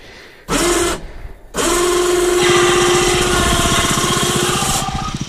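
An ATV winch cable running over a newly fitted pulley lifts a snow plow with a steady, close mechanical whine and rapid ratcheting buzz, starting after two brief bursts and continuing to the end.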